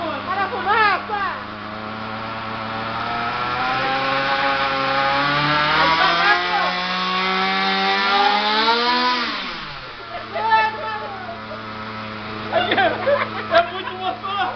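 A loud T-Rex 700 gasoline engine being tuned revs hard and climbs in pitch, then drops away, with excited voices and children calling out around it.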